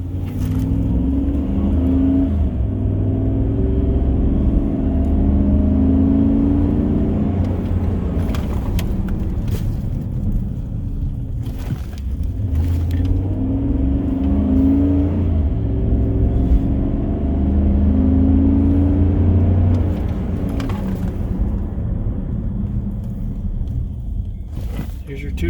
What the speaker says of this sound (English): you're going to get up to about 45 miles an hour, and get on the brakes pretty hard